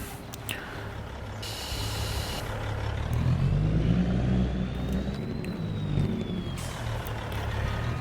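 A Peterbilt truck in Farming Simulator 25 hauling a grain trailer idles with a steady low diesel rumble, swelling slightly as the engine revs. A brief air-brake hiss comes early and a thin rising-falling whine runs through the middle.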